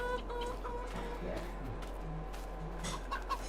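Chickens cluck in a farming video game, a few soft, low cackles scattered over faint background noise and a steady hum.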